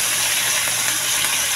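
Pork browning in a frying pan with garlic and onion gives off a loud, steady, hissing sizzle, close and continuous throughout with no breaks and no talking.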